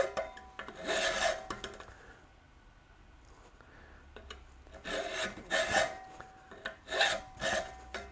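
A coarse hand file rasps across a cast groove in a metal housing with brass rivets, several separate scraping strokes, close and fairly quiet, with a softer lull in the middle.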